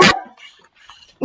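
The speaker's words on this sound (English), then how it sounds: "sorry for the dog barking" A dog barks close and loud in a quiet garage during a Corvette carburetor job, two short sharp barks about a second apart with a faint whimper between.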